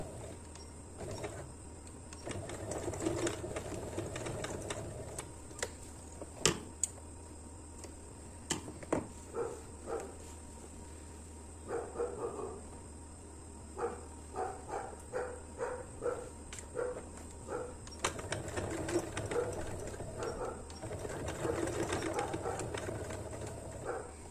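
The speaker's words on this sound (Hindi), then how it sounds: "मैं मशीन से लगा रही हूँ" A sewing machine stitches fabric for a small storage basket, its quiet whirring coming in short repeated bursts with pauses between runs, faint and close.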